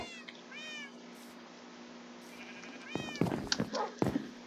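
A pet cat meows several times, rising and falling calls early on, then a louder cluster of meows near the end, heard close over a faint steady hum in a quiet room.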